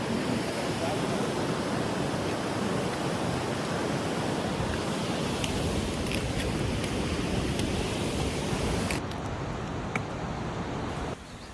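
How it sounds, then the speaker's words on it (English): A mountain river rushing along the Annapurna base camp trek in Nepal, a loud, constant roar of water filling the whole scene without a break, with faint clicks on top. "Look at the river."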